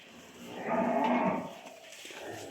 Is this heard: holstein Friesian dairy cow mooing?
yes